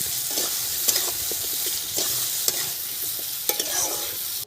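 Potatoes frying in oil with black cumin seeds while being stirred. A continuous hiss and sizzle runs throughout, broken by occasional scraping clicks of the spoon, close and unaccompanied by talk.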